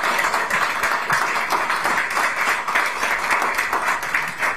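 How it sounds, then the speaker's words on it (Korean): A crowd at a political rally gives sustained, dense hand applause, steady and loud throughout with faint voices mixed in. "손박수 부탁드립니다."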